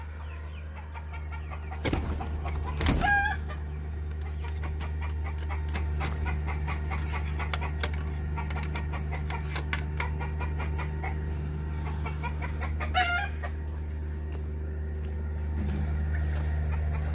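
Chickens in a neatly built coop at a rural country house cluck and call over a steady low hum, with a rooster's sharp cry rising twice and scattered clicks and rustles between.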